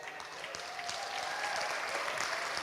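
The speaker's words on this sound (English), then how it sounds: "Give her a round of applause." Sustained audience applause at an African American leadership awards gala, a dense even wash of clapping from a large crowd that swells slightly and holds steady throughout, with no talking over it.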